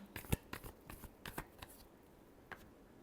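Tarot cards are shuffled by hand, crisp papery riffles and slaps in a quick irregular run that tapers off toward the end, close and fairly quiet.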